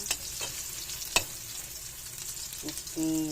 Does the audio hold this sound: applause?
no